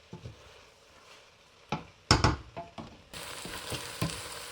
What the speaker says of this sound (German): Jetzt sind die Zwiebeln insgesamt 30 Minuten im Topf und jetzt werden die Zwiebeln langsam angeröstet.